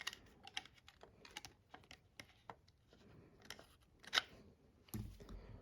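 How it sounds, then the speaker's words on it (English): A Phillips screw being turned out of the stock grip of an AK-47 pattern Mini Draco: close, irregular scratchy clicks and small metallic scrapes, with a sharper knock near the end. "unscrew this Phillips screw that's holding the stock grip on"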